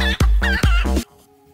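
An enchanted chicken item from a Minecraft chicken addon gives three loud, close, clipped chicken clucks in quick succession, followed by near quiet.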